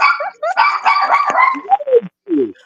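A dog barks and yips in a rapid, excited string of close, loud calls, the tone rising and falling with a few whimpering squeals toward the end.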